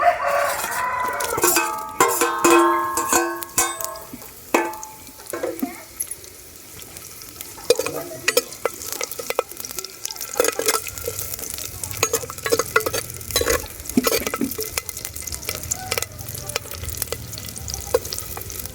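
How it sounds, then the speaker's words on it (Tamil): Mustard seeds and spices fry in hot oil with onion and chili, stirred in a pan. Close, crackling pops and scraping stirs fill the clip. A rooster crows in the background near the start. "இப்போதான் பாரு எண்ணெயில் கடுகு பொரியுது."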